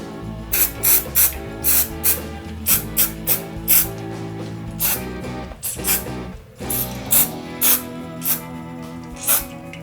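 Shooter's Choice shotgun and choke tube cleaner sprayed onto over-under shotgun parts in a string of short, sharp aerosol hisses, some closely spaced and others with brief pauses, close up and without talk.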